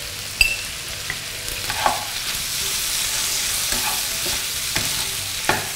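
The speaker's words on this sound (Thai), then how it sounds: "ผัดให้เข้ากันนะคะ" Pork belly stir-fried with holy basil and dried chili in a hot pan, a steady close sizzle broken by scraping stirs and occasional sharp clinks of the utensil against the pan, with no talking.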